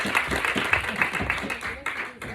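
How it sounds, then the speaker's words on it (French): Audience clapping for the organizers of an evening women's gathering, a loose patter of hands heard under a voice speaking over it. "on peut l'applaudir"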